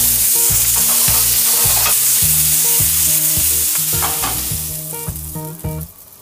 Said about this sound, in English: Again, just a light toss.